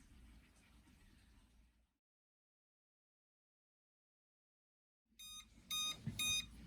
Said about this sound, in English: let's wait now until the alarm goes off